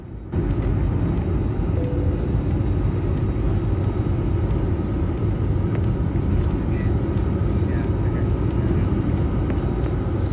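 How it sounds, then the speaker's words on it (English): Loud, continuous roaring rush of wind and engine drone, steady and unbroken throughout, like air blasting past an aircraft in flight. "Violent wind buffets an airplane wing mid-flight."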